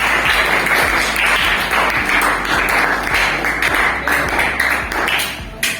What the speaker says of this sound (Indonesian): tepuk tangan dong untuk Matthew